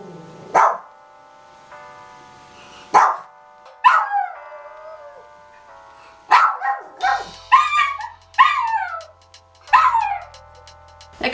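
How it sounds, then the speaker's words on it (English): Several dogs bark and yip in short, loud bursts, some barks close together and others spaced apart, with a whimpering, howling quality, and no talking over them. "you hear some doggies?"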